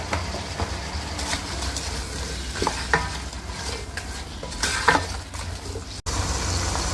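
Bay leaves, turmeric and salt going into a sizzling pot of oil for a stew, with steady frying hiss and several scraping stirs of a spoon, close and loud.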